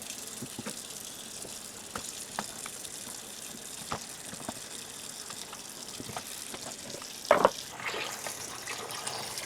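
Sliced potatoes rinsed in a bowl under running water at a home kitchen sink, a soft continuous trickle and splash with occasional small knocks and one louder clatter near the end.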